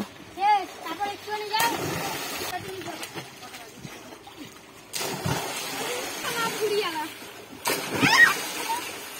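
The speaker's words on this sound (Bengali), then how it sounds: "ছোট ছোট ছেলেগুলো কি সুন্দর জলের মধ্যে লাফ দিয়ে দিয়ে কি সুন্দর মজা করছে" Children jump and splash in a village pond, with bursts of water splashing and sloshing spread across the clip amid chatter and shouting nearby; three louder splash bursts stand out.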